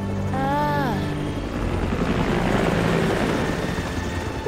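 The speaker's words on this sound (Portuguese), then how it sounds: "De quem é esse helicóptero?" A helicopter in the game Resident Evil 3 Nemesis chops and whirs steadily at close range, with a brief rising-and-falling tonal sweep near the start and no speech.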